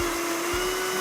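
Blender on a kitchen counter whipping ricotta with garlic and heavy cream for a skillet lasagna, a steady loud motor whir running throughout with no voices.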